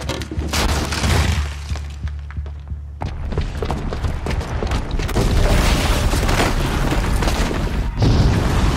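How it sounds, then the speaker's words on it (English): A bomb booby trap goes off in Horizon Zero Dawn, first a deep low rumble and then a dense burst of crashing, shattering debris and rolling blasts that stay loud to the end. "the booby trap on the bomb downstairs is gonna get set off"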